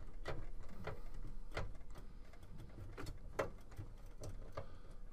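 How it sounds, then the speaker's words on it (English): A screwdriver backs screws out of a computer's hard drive, giving a series of faint, close, irregular metallic clicks and ticks, with no talking over them. "I'll take that corresponding screwdriver with the correct bit, and we'll remove these screws that are holding it on"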